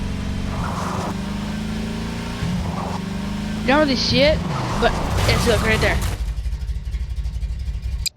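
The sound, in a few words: car engine and tires in Garry's Mod video game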